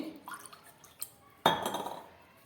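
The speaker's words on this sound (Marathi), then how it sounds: "थोडंसं मी पाणी ओतते" Water is poured into a thin batter for crispy fasting appe during Navratri cooking; after a few faint clinks, a short close pour begins sharply and trails off softly.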